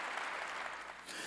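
A church congregation applauds to give glory to God during a sermon, a steady dense wash of many hands clapping at a distance, continuous and even throughout.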